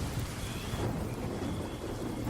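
Heavy rain pours outside at night with deep rumbling thunder rolling underneath, a dense steady downpour with no voices.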